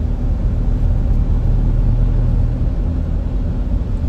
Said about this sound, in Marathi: यांच्याकडे अजून चालते ही गाडी विक्रम टमटम